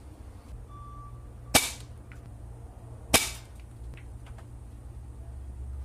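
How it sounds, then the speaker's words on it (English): Two sharp air gun shots from a Demon air rifle with boosted velocity, pellets ricocheting off a target, about a second and a half apart, loud and close over a steady low background hum. "we're going to shoot it using the Demon"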